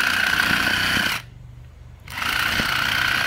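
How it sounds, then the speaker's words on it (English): A sawzall reciprocating saw cutting through putting green turf gives a loud, steady buzzing drone that drops away for about a second and then starts up again, with no voices. "we're starting to cut the pieces out, and it just goes a lot quicker with that sawzall than using a regular knife blade."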